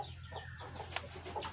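Free-range village chickens cluck softly at a backyard poultry run, with faint, scattered calls over a steady low background hum and no talking.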